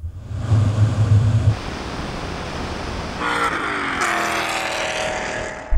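A BMW E39 M5 and an Alpina B10 accelerating side by side in a drag race, a muffled engine rumble with wind noise that rises into a louder, higher revving whine partway through.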